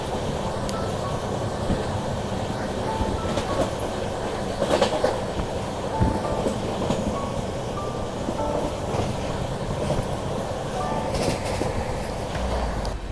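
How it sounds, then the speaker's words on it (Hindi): South Bihar Express train running on the railway line, a steady loud rolling rumble with faint rhythmic clatter throughout, heard close by. "अरे ये तो साउथ बिहार एक्सप्रेस है जो कि राजेंद्र नगर से दुर्ग के बीच चलती है"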